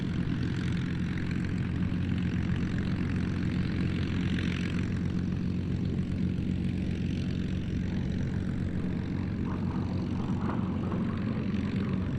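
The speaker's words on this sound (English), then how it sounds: "Diving in for what will be the aircraft's final pass." A loud, continuous propeller-engine drone fills the whole stretch, with a throaty roar that swells slightly as a SAAB B 17 dive bomber dives in for a pass at an air show at Duxford.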